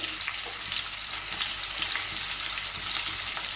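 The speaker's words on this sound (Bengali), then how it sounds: "একটু রসুনটা আলাদা করে ভেজে নিই" Garlic frying in hot oil, a steady dense sizzle and crackle held close and loud throughout, with no voices.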